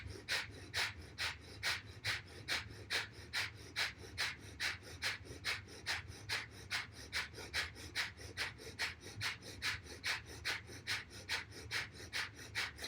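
Rapid, forceful pumping breaths in a steady rhythm, about two per second, continuing evenly through a breathing exercise, close and loud with no talking over them.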